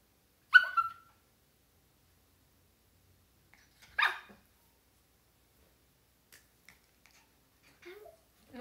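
A dog gives two short, sharp barks a few seconds apart in a quiet indoor setting, with faint soft sounds near the end.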